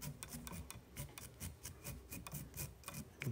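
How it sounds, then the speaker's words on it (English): A small toothbrush rapidly scrubs dubbing on a tied fly nymph, producing quick, close, rhythmic raspy brushing strokes, faint and repeated about every quarter second. "take a little toothbrush"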